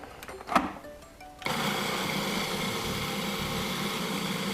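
A machine grinds ginger snap cookies and butter for a pie crust, kicking in abruptly after a moment of quiet kitchen noise and then running as a steady, loud whirring drone.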